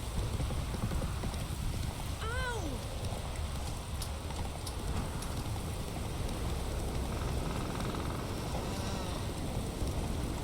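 The horse Roach trots through the woods in The Witcher 3, a soft rhythmic clip-clop of hooves under a dense rustling ambient bed, with a brief whinny-like call partway through.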